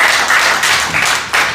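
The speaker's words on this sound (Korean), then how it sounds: "우리 유한봉 장로님 나오실 때 큰 박수로 환영해 주시기 바랍니다" Audience clapping at a church worship service in welcome as an elder steps up to give a special lecture; a dense, steady round of close hand claps, slightly swelling and fading over its short span.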